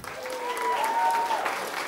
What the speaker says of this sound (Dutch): Geef ze nog eens een geweldig applaus.